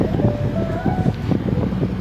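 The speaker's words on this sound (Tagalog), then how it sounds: "Malakas ang hangin ngayon." Steady wind rumble buffets the microphone outdoors, with low boat engine noise and voices mixed in the background.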